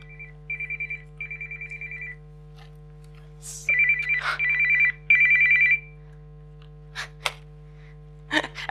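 A mobile phone rings in a conference room with repeated electronic ringtone bursts, first softer and then louder and longer, over a steady hum, followed by a few scattered clicks and rustles.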